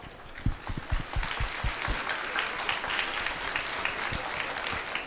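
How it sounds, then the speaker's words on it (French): Steady audience applause for an author at a prize ceremony during the 2012 Brive book fair, a dense, sustained clapping crowd with a few sharp claps standing out near the front. "on peut encore vous applaudir, je crois."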